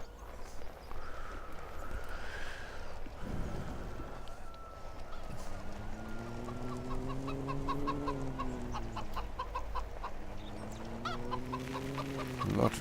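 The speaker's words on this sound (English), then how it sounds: "A lot of chickens running about the yard now." Chickens cluck in repeated rising calls in Farming Simulator 17, over a steady background hum, with scattered clip-clop sounds mixed in.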